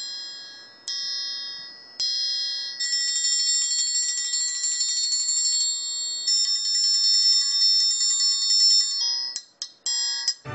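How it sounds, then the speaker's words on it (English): An orchestral triangle rings out in a series of bright, sustained metallic tones, struck repeatedly with some rapid rolls and short clustered hits near the end, heard alone and close. "Triangle."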